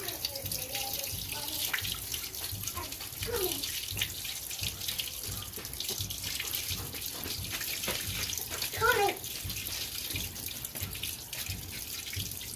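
Dirty water draining out of a catfish basin at a hillside fishpond, a steady broad splashing rush running throughout with a few brief louder bursts.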